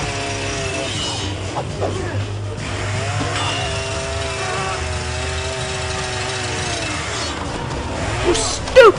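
A chainsaw from a horror-comedy film runs continuously at a steady high-pitched whine, mixed with film dialogue and score, ending in a sharp loud burst.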